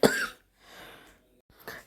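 A sharp, loud cough bursts out at the start, followed by a softer breathy exhale and a second short cough near the end.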